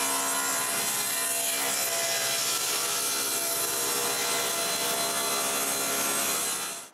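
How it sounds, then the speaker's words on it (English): A saw rips steadily and loudly through a wooden board, cutting it to size in a woodworking shop, with the rough grinding cut running continuously and then winding down at the end. "then I can rip it to size"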